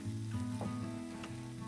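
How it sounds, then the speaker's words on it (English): Triple tail fish fillets sizzle directly on a hot flat top grill with a steady, close frying hiss, joined by a low background hum and a couple of brief scraping touches. "We're gonna cook them right directly on this flat top on the tribal grill."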